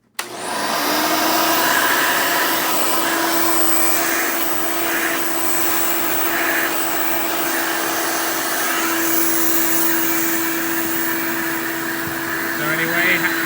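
Hoover Elite 600 U4473 upright vacuum cleaner running with a loud, constant whining motor hum and airflow, close, with a voice talking over it.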